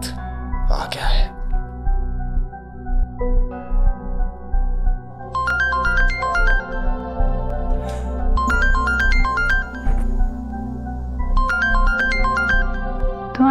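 A phone ringtone plays in repeated bursts of bright electronic tones under dialogue, several rings spaced a couple of seconds apart as an incoming call from dad arrives, with voices speaking in the room.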